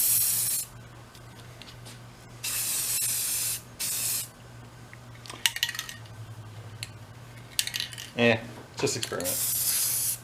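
Spray paint hissing in several bursts as a second coat goes onto a vintage Snap-on airport toolbox during restoration, loud close blasts separated by pauses, with a brief spoken remark and some metallic clinks between sprays.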